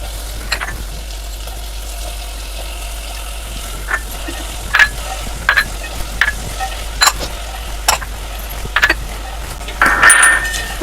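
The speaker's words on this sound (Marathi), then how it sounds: "आणि चांगले परतून घ्यायच्या भाज्या मसाल्यामध्ये." Mixed vegetables for a Bhogi bhaji are stir-fried in spice masala, giving a low steady sizzle broken by repeated sharp scrapes and clacks of a spatula against the pan, with a louder burst near the end.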